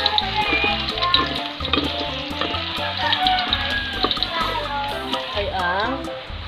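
Garlic frying in hot oil in a home kitchen while cooking chicken tinola, a close, crackling sizzle running steadily throughout beneath a person speaking.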